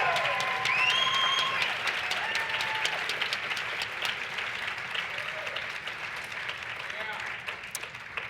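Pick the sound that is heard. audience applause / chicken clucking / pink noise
audience applause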